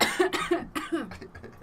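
A short run of harsh coughs, four or five in quick succession, close by and moderately loud.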